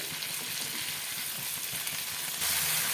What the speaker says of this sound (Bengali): পেঁয়াজটা ভাজা ভাজা হয়ে গেছে দিয়ে দেবো টমেটো দেবো অল্প লবণ টমেটোটাকে ভালো করে গলিয়ে নিতে হবে